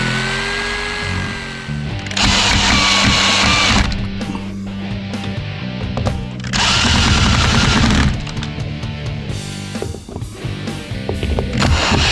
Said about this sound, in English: I'm going to drill some dirty big pilot holes